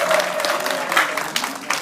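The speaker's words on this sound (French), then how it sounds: "Je suis heureux de vous le présenter et de vous demander d'applaudir chaleureusement." An audience at a political rally in Ndjolé, Gabon applauding warmly, a short burst of dense crowd clapping with a voice briefly audible over it.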